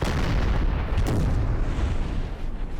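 Artillery volley in Napoleon: Total War, a dense continuous roar of overlapping booms and rumbling blasts that stays loud for the whole stretch, with no talking.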